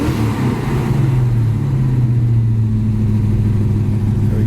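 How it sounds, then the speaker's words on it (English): A 1974 Plymouth Duster engine runs on fast idle, a steady, loud, close rumble with an even low drone and slight wavering in pitch throughout, no voices over it. "Kind of seems like it's on fast idle."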